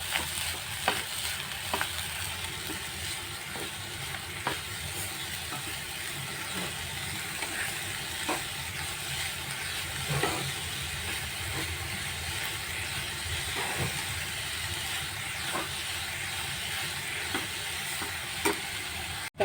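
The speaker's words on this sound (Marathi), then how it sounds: "गूळ, हे आपण चांगलं आता ढवळून घेऊया." Jaggery filling for modak stirred in a pan, a continuous soft sizzle with regular scraping strokes of the spoon at a steady rhythm, close and alone.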